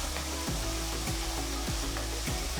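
Fennel seeds and finely chopped small shallots sauté in hot oil in a pan for a prawn curry, giving a loud, steady close-up sizzle broken by regular scraping stirs of a spoon about every half second.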